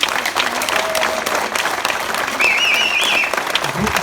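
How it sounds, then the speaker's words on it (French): A convention audience breaks into sustained applause, a dense wash of many hands clapping that holds steady throughout, with a few whistles rising above the crowd near the middle. "donnez-vous une bonne main d'applaudissement"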